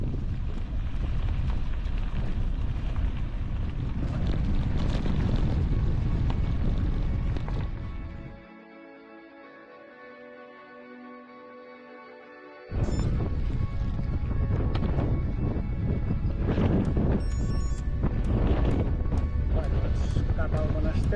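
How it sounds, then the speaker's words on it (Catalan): Strong, cold wind blows outdoors along a countryside route, buffeting the microphone with loud rumbling gusts that drop off briefly midway before returning at full force. "amb molt de vent"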